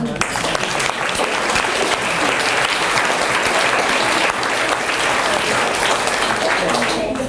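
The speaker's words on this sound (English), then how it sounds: "I think you also deserve another round of applause." Wedding guests at a reception give the bridesmaids a round of applause during the best man's speech: dense, steady clapping from a whole room, sustained for several seconds without pause.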